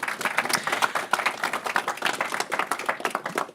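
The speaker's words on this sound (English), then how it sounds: "a big round of applause, please, for our champions" A modest audience claps for newly named champions at a business council launch, a fairly small group whose individual claps stay distinct in a quick, uneven patter.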